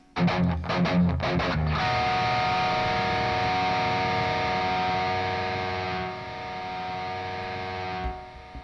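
A distorted electric guitar strums a few quick chords, then one note rings out long and steady with heavy sustain before fading near the end.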